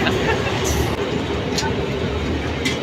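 A train pulling into Gurap station: a dense, steady rumble and rolling rail noise, close and loud, with voices talking over it.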